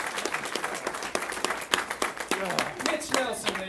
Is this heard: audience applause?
yes